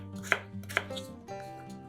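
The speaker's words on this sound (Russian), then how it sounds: "Остальные 400 грамм картошки нарезаем небольшими кусочками." A knife chops potatoes into small pieces on a board, with a few sharp, distinct strikes followed by softer cuts, close and fairly quiet, with no voices.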